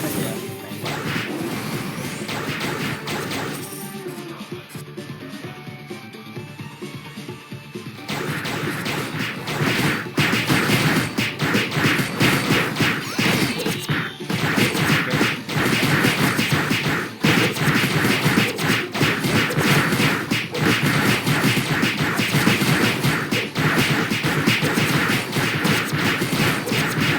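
Dense, continuous shooting and attack effects from the Ragnarok M Eternal Love video game, loud and busy with repeated smashing hits and whooshes. The effects thin briefly partway through, then resume at full intensity.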